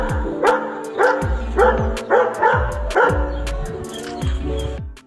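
A dog barks repeatedly near a swimming pool, about seven loud close barks in a quick uneven rhythm, alone without talk.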